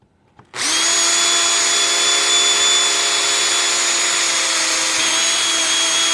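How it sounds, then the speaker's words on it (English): A power drill with a worn bit starts up and runs at a steady high-pitched whine for several seconds while drilling on a motorcycle, close and loud with no talking. "Let's get the side drill."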